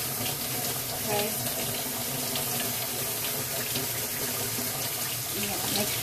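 Kitchen tap running steadily into a sink while a freshly cleaned fish is rinsed under it, a close, continuous splashing hiss with small shifts as the fish moves through the stream.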